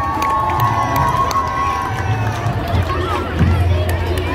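Festival crowd at an outdoor halal food festival cheers and shouts for a unicycle performer, a sustained noisy roar of many voices with whoops, close and loud throughout.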